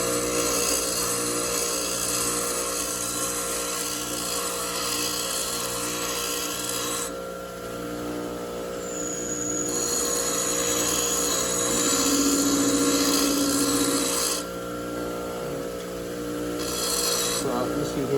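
A lathe tool bit is pressed against a spinning grinding wheel, giving a steady abrasive rasp over a constant motor hum that cuts out and resumes between passes, with someone talking under the grinding.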